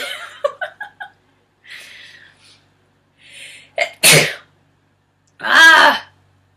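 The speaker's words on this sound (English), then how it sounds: "Uh oh, I'm gonna sneeze." A girl sneezes once loudly at close range after a quick sharp inhalation, preceded by a few short breathy vocal sounds and a brief soft voice.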